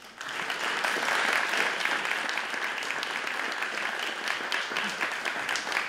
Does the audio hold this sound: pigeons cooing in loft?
no